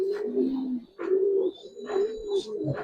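Giribaz pigeons cooing nearby in repeated low, throaty phrases, several overlapping calls with a few higher chirps mixed in, no voices.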